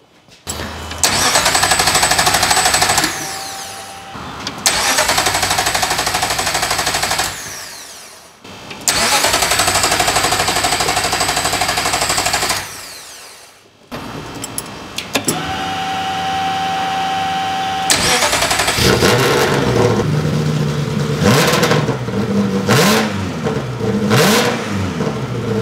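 A Ferrari engine fitted in an Alfa Romeo 105 cranks and fires several times, with loud sustained bursts broken by short gaps, then settles into a steady idle punctuated by sharp revs, close and loud.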